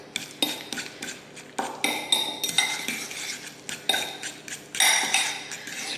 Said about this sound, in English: we're going to first mix that all up just so that we get our textures right